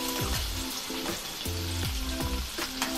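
Chopped onion fries in oil with cardamom, a cinnamon piece and two bay leaves, a close crackling sizzle broken by repeated scraping stirs of a spoon against the pan.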